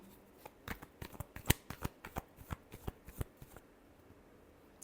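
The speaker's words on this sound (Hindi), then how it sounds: "last shuffle," Tarot cards being shuffled in a run of crisp riffling snaps and flicks, close and fairly quiet, speeding up through the middle and then stopping, with no voices.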